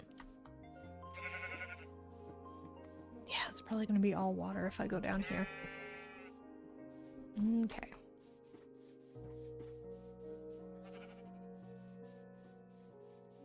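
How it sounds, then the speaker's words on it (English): Sheep bleats from the Minecraft video game sound a few times in the middle, over background music, while someone talks throughout. "Oh, hey. Sheep."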